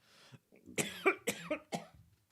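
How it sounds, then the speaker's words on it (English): A series of harsh coughs, four or five bursts in quick succession, close and fairly loud, with brief pauses between them. "I'm gonna mute while I cough myself through"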